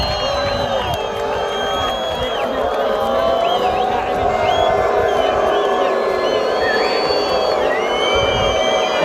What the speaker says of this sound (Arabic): الله الجمهور المرعب